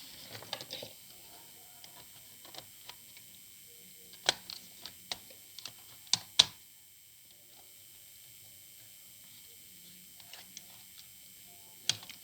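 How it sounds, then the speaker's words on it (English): Taking the keyboard out of a ThinkPad T43 laptop: sparse plastic clicks and ticks, a few sharper snaps in the middle and at the end, with long quiet stretches between and no talking. "remove the keyboard."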